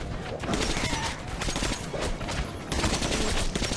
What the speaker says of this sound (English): This gun sounds a hell of a lot better now.